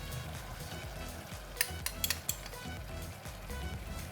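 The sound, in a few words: stirring taro cake mixture with sauces and sugar in a pan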